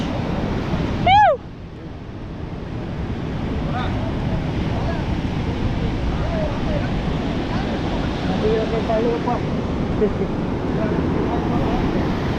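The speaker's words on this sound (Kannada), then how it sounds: "ಇದ್ರ ಬಾಜೂನ ಬೀಚ್" Sea surf at a beach beside a Ganesh temple at Ganpatipule, Maharashtra, a steady broad wash of waves with wind noise running throughout, briefly interrupted near the start by a short rising sound.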